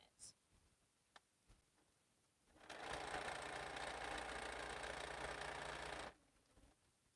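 A sewing machine runs in one steady burst of about three seconds, stitching quilt block units for a retreat quilt, with quiet room sounds before and after.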